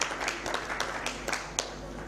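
Scattered applause at a child-labour signing ceremony, with an ILO official adding his signature; a modest, faint patter of claps with a few sharper individual hits, heard at a distance over low background hum.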